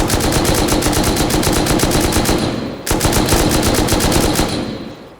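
Sustained automatic gunfire in the survival video game Rust, a loud rapid burst of shots lasting a few seconds, a brief break, then a second long volley; no talking.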